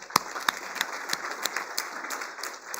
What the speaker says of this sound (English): I request you all to carry out this vote of thanks with a round of applause.